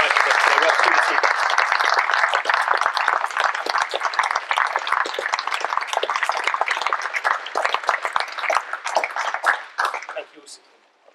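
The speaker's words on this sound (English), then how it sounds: "Can we give them a huge round of applause?" An audience after a Q&A evening with Andrew Cullen, Richard Hughes and John Mousinho gives a long round of clapping. It is loud and dense at first and thins out toward the end, with voices mixed in.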